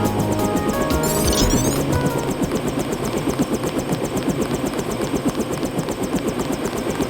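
Helicopter in the video game Deus Ex, a loud, close rotor throb pulsing rapidly and steadily, with a brief electronic chirp near the start and no speech.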